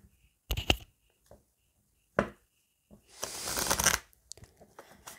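Tarot cards being shuffled and cut by hand, heard as a few short papery riffles followed by a longer, louder burst of fast card shuffling, close and clear with no talk.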